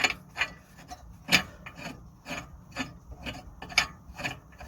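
Short scraping, ratchet-like turns sound close by as a bolt on an Audi A3 rear brake is tightened by hand, coming in irregular strokes separated by brief quiet gaps.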